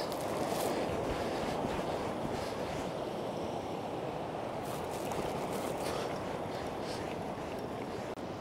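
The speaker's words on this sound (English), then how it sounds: "Here comes a big set of waves." Big set of sea waves breaking on the shore during Storm Gerrit, heard as a steady, loud, broad roar of surf mixed with wind buffeting the microphone, continuous for several seconds with no voices.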